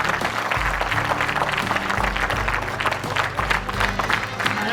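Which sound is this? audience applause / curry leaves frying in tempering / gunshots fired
audience applause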